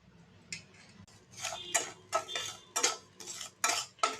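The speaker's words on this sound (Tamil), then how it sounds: "இப்போ பேனில் நம்ம கொஞ்சமாக நெய் ஊற்றிட்டு இந்த ரவையை வறுத்துக்குவோம்." Semolina roasts in a little ghee in a pan while a spoon scrapes and clinks against the metal in quick repeated strokes, close and fairly quiet, with no voices.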